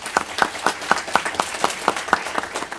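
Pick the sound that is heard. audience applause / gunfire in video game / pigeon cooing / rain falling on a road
audience applause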